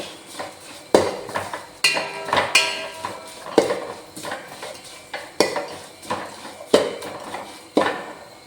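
A spoon scrapes and knocks against a pan in repeated strokes, stirring ground spices in a steady rhythm with faint sizzling underneath.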